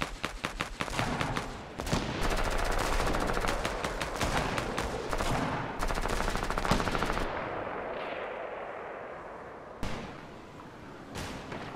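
Rapid automatic gunfire from the Fortnite battle royale game during a squads match, dense bursts of shots overlapping for several seconds, then tapering to a few isolated loud shots.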